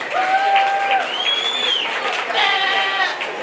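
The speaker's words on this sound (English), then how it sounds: "Let's give these kids a huge round of applause." A crowd at a county fair sheep show applauds the kids in a steady, close wash of clapping, while sheep bleat loudly over it several times.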